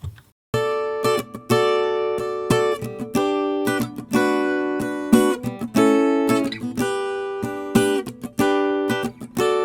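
Strummed acoustic guitar, a single double-tracked part playing a different interval in a higher octave, steady rhythmic chords ringing continuously and fairly loud, with no voices.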